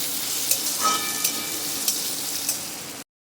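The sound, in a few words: potatoes frying in a pan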